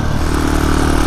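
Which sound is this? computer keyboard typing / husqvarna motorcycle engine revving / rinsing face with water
husqvarna motorcycle engine revving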